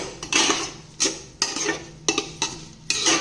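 Washed millet rice is tipped into a pressure cooker over sautéed vegetables in oil, giving a series of close, bright metallic clinks and rattles from a spoon against the pot, roughly five sharp bursts.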